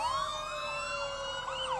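A fire engine siren sounds in a Christmas parade of lights, a loud continuous wailing tone that rises and falls across the whole stretch with no talk over it.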